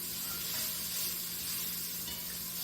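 Onions sizzle and caramelize in a hot pan with a steady, close, dense hiss that continues without pause and without speech.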